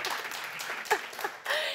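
A comedy club audience breaks into short, brisk applause, close and fairly dense, with some voices mixed in.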